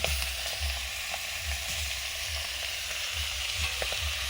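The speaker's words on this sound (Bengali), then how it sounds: "এখন মাছ ভাজছি।" Fish frying in a pan, a steady broadband sizzle with soft intermittent low bumps and pops, close and continuous without speech.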